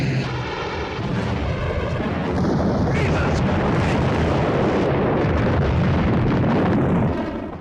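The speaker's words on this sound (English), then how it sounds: "Did they just bomb their own base?" Bombs explode across a military base in the 1970 movie Catch-22, with a loud continuous roar of blasts and aircraft engine noise building and sustaining, then fading at the end.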